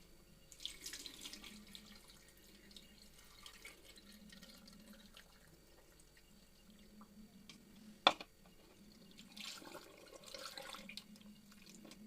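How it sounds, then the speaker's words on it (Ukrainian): Syrup pours into glass jars packed with pears for winter preserving, a soft running trickle close by in a quiet kitchen, with a sharp clink midway and the pouring swelling again toward the end. "Поскладала вже грушки в банки і заливаю сиропом."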